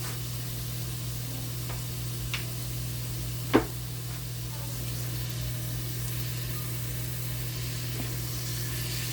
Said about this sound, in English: I'm gonna do a little squirt of lemon right over the top while the pan is still on